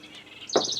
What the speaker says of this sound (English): I got these birds. I don't know what they are. They sound pretty